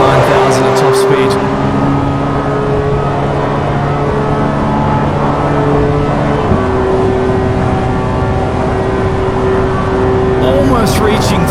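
Loud, continuous drone of a naturally aspirated race car engine near top speed, rising toward 9,000 rpm with a pitch shift partway through, as a voice talks over it.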